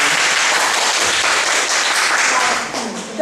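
A university lecture audience applauding to welcome a lecturer, dense steady clapping that fills the room and tapers off near the end.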